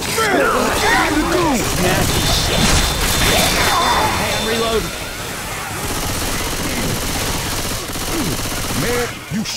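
Rapid gunshots and bursts in Left 4 Dead 2 mixed with zombie chaos, crashing impacts and whooshes, loud and close throughout, with players talking over the din.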